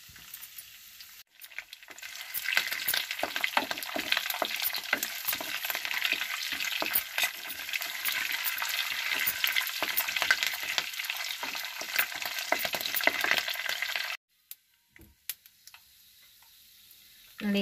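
Mustard seeds, cumin, chana dal, urad dal and curry leaves frying in hot oil for a tomato rice paste, a loud continuous crackle and sizzle with sharp pops that cuts off abruptly near the end.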